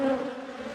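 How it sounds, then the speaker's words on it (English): Bees in a colossal hive colony hum in a dense, steady buzz, close and fairly loud, a continuous droning swarm with no pauses. "There are a lot of bees in here."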